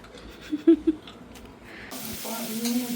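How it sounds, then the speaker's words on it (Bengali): Country chicken meat sizzling in a hot pan, a steady hiss rising toward the end after a few soft clunks near the start. "তো এখন রান্না হচ্ছে দেশি মুরগির মাংস।"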